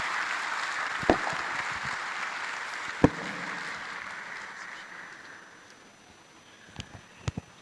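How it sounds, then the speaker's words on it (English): Conference audience applauding a speaker at a blockchain tech event, a soft, even wash of clapping that slowly fades, with a few sharp knocks standing out near the start and end. "A round of applause once again for our speaker, Hanu Fejuro, ladies and gentlemen"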